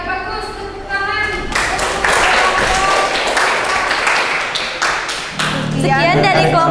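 Scattered clapping from a classroom audience of students, sharp separate claps rising into a brief patter, with voices talking over it at the start and end.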